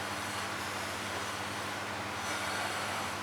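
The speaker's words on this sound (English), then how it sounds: "We can hear the sound of APU coming up." Auxiliary power unit on an Avro RJ100 (British Aerospace 146) airliner spooling up, a dense, steady broadband roar with a faint tonal whine, continuous and fairly close, with no voices.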